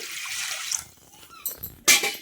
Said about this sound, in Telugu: నీళ్లు పోసేసుకున్నామండి.